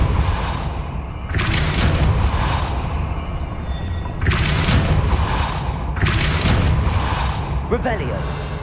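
Depulso force-push spell cast in the video game Hogwarts Legacy, heard as several loud booming, whooshing bursts roughly every two to three seconds over a steady game soundscape.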